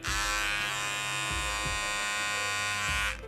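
A Vega P3 electric beard trimmer hums loudly and steadily at close range for a few seconds, its pitch wavering slightly before it switches off.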